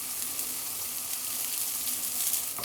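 Tofu and asparagus, seasoned with salt, sizzle steadily as they grill in a pan, a close, even crackling hiss that runs alone throughout.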